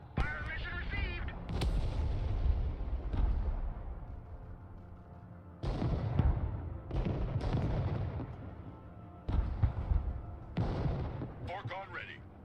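Artillery fire in a video game booms out in repeated heavy, rumbling blasts that roll over one another for several seconds, loud and continuous, with brief gaps between volleys.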